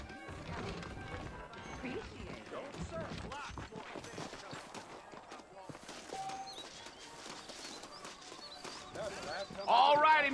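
Saddled horses clip-clop along out front of a Red Dead Redemption town, hooves thudding and cracking in an uneven stream under steady talk and game noise, with a louder burst near the end.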